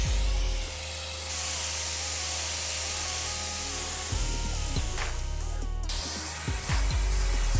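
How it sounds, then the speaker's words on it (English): Water is sprayed onto cannabis plants to knock off bugs, a steady hissing spray over a continuous mechanical hum, with a few sharp clicks and a burst of louder hiss near the end. "I'm doing the water tech, just spraying them with hot, not even hot water, but just water"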